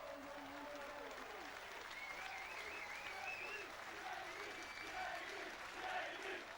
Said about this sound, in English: The lads are coming over to the adulation of the crowd.